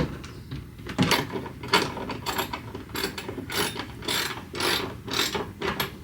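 A ratchet tightens 10mm bolts on a 2015 S550 Mustang GT tail light, producing repeated close bursts of ratcheting clicks in a quick, uneven back-and-forth rhythm with no talking.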